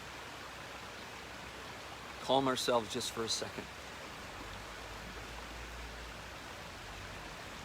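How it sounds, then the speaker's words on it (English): Steady broadband rush of flowing water, like a nearby stream, continuing throughout with a soft voice speaking briefly in the middle. "So let's listen to the water behind us."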